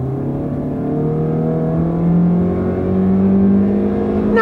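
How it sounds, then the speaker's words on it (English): A 2017 Honda Civic pulls away from a stop at full throttle, a steady engine drone rising smoothly in pitch without gear-shift breaks, heard from inside the car with no talk. "So we'll stop and we'll see how fast this can take off."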